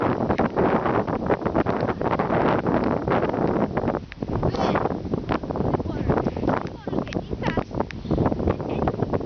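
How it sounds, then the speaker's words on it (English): Strong wind buffets the microphone on a flooded golf course in Bury, England, roaring and gusting loudly with only brief lulls, and people talk faintly beneath the rush. "All I can hear is the wind."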